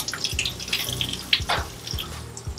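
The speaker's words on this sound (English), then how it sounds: "not putting the water on very high, keeping it on a lower setting" Tap water runs at a low setting while a cat is bathed in a sink, a close, gentle stream with splashes and drips and soft clatter.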